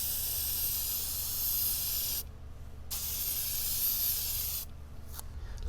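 IPC paint hisses out of an aerosol spray can in two long, steady bursts separated by a short pause, close and loud against a quiet room.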